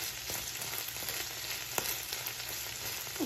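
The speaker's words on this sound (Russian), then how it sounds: "Паста обжаривается" Tomato paste fries in a pan with vegetables, a steady soft sizzle and crackle with occasional sharper pops, close and alone with no talk.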